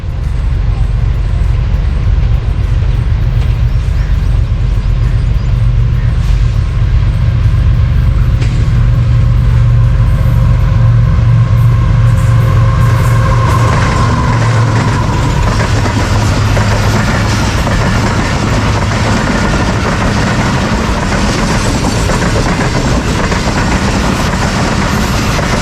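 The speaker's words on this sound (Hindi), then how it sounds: "आप मिल्लत एक्सप्रेस पासिंग कोट समाबा" Millat Express passenger train passing Kot Samaba railway station, a loud, steady rumble with rhythmic wheel clatter that continues close by for the whole stretch, with faint voices underneath.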